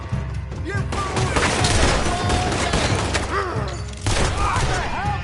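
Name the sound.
gunfire in the video game Red Dead Redemption 2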